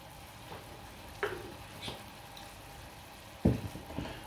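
Ground cumin, coriander powder, ajwain and turmeric frying in oil for a fish gravy, a faint low sizzle with a few sharper stirring knocks and scrapes of a spoon in the pan, no voices.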